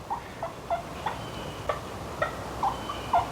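A wild turkey gobbler in the open gives a series of short, repeated calls at fairly regular intervals, moderately distant, with no talk over them.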